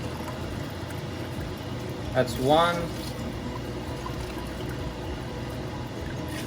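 Water poured from a cup into a cooking pot for paneer biryani: one short pour of about half a second with a rising filling tone, heard under a man's speech and steady kitchen background noise.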